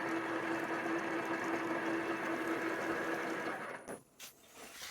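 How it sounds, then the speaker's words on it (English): A high speed steel end mill cuts through a broken bolt and snapped easy-out in a two-stroke power valve cover, giving a steady, loud machining whine that runs for nearly four seconds before abruptly stopping. "We made it through the bolt and the easy out without any bother on the second go with a high speed steel end mill."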